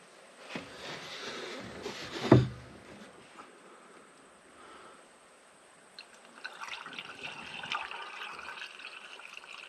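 Water gurgling and trickling into the radiator of a Fordson Power Major tractor as it is filled, a steady faint liquid sound with one sharp knock early on and busier splashing toward the end.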